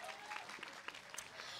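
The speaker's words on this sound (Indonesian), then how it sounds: "Kita tepuk tangan dulu apresiasi kepada prestasi Pak Anies" Applause from an audience at an Anies Baswedan public discussion event, a steady dense patter of clapping that runs throughout without a break.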